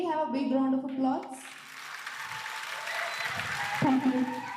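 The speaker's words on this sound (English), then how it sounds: "Can we have a big round of applause?" Audience applause at an international multidisciplinary symposium on the future of AI, a brief burst of clapping swelling up between stretches of amplified speech and music.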